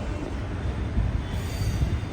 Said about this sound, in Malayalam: തഞ്ചാവൂരിൽ നിന്നും 206 കിലോമീറ്റർ യാത്ര ചെയ്ത ട്രെയിൻ ഇതാ മധുരൈ ജംഗ്ഷൻ റെയിൽവേ സ്റ്റേഷനിലേക്ക് ഇതാ എത്തിക്കൊണ്ടിരിക്കുകയാണ്.